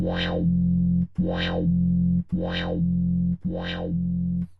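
A distorted synth tone swells open and closes four times in a steady rhythm, each bright sweep rising then falling, with brief gaps between.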